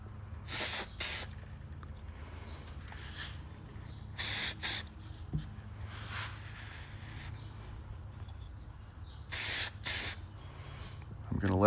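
Spray paint hisses onto a rangefinder in short, sharp bursts of a few seconds each, close and crisp against a quiet background.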